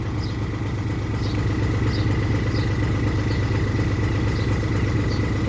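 A Kobelco Mark V excavator's diesel engine runs at a steady, continuous drone with a low rumble and faint clatter, close and unbroken throughout with no talk.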